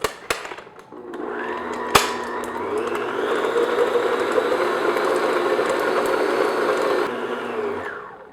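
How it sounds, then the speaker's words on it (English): Electric hand mixer beating room-temperature butter smooth for brownie cupcakes, a loud steady motor whir running about six seconds after a few clicks, with the pitch shifting slightly as the beaters work. "I'm just going to beat it just to get it nice and smooth"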